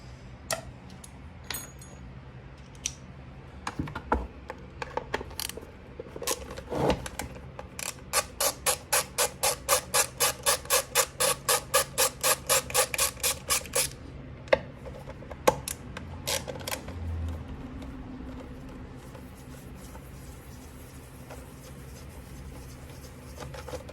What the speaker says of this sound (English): I like this DeWalt like hand ratchet screwdriver thing